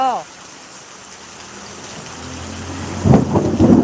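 A voice speaks briefly at the start, then close, heavy thunder bursts and rumbles near the end over a steady wash of rain.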